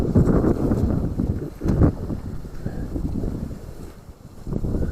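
Strong wind buffets the microphone in a steady low roar, with gusts rising and falling throughout and no one speaking.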